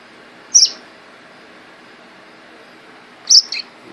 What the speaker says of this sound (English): Here's my little baby bird.